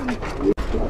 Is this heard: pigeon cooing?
yes